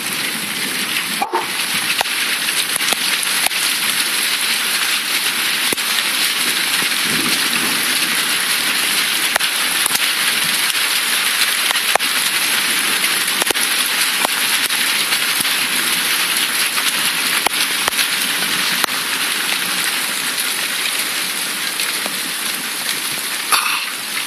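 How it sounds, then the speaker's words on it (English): Hailstones falling during a thunderstorm make a steady, dense hiss that stays constant and fairly loud throughout, with scattered sharp ticks of impacts. No one speaks. "It's not raining, it's hailstoning."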